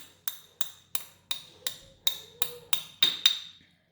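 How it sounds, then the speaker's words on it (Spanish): Ten light, evenly spaced hammer taps on a metal pin punch, driving a pin out of a Cobray M11 9mm, ring out sharply and close, each with a brief bright ring, slightly louder toward the end. "vamos a dar unos ligeros golpecitos"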